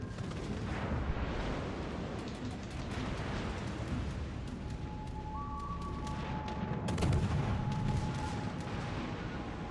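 Naval gunfire in World of Warships Legends rumbles through a low, dense battle din, with distant booming blasts, a sharper report near seven seconds and a brief tone passing over the continuous roar.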